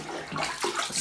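Foam filter blocks from a canister filter splash and slosh in water, a short wet churning burst heard up close with no talking.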